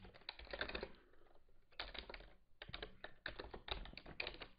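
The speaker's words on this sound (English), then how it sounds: "now we're going to type spanning tree" A command is typed on a computer keyboard while configuring spanning tree on an HP Comware switch: bursts of quick close key taps separated by short pauses, fairly quiet, with no talking.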